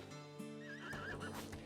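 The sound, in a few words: horse neighing in the video game Rimworld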